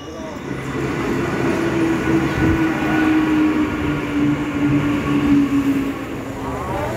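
A moving local commuter train rumbles steadily, with a droning hum and rail noise that stays loud throughout, and faint voices underneath.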